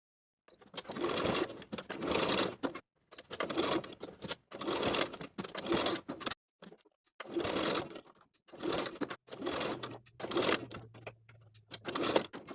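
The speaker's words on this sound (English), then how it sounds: "Baste each of the top edges of the straps in place." A sewing machine bastes the top edges of pajama straps in place, running in several bursts of rapid stitching separated by short pauses, close and fairly loud, with no talking.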